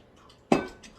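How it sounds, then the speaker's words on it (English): A metal tea kettle is shifted on a stovetop, one sharp close clank with a brief metallic ring, amid faint kitchen rattles. "I'm going to move my tea kettle out of the way."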